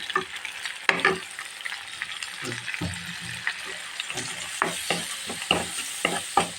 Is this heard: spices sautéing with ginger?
yes